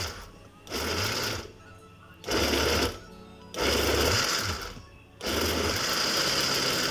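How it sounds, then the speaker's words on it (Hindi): A mixer grinder whirs through drink ingredients with a glass of water, running in four loud bursts of roughly a second each, separated by short pauses. "इसको मैं अब अच्छी तरह ग्राइंड कर लूँगी ताकि ये बिल्कुल क्रीमी शक्ल में आ जाए"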